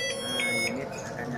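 Alarm beeps from the remote of an electric Vespa T3 scooter sound as a steady high tone with a few brief pulses, close and loud over a background voice.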